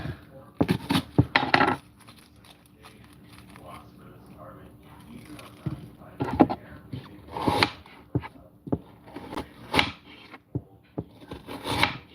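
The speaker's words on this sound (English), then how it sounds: "So we're going to chop our onion." A knife chops a white onion on a board, with irregular knocks and clustered taps that come close and fairly loud, separated by quieter stretches and some background talking.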